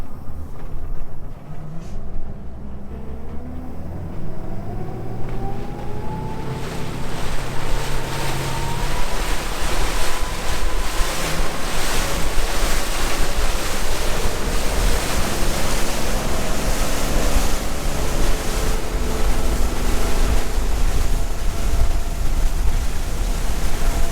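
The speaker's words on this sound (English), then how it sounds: "So what I'm going to do now is get the boat on cruise" Steady broadband rush of water against the hull of a 2007 Chaparral 276 SSX motorboat cruising, with a low engine drone underneath, continuous and fairly loud throughout, no voices.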